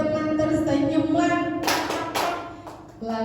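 A group plays a rhythmic hand-clapping game, sharp claps landing in bursts over a sung melody, with singing voices carrying throughout.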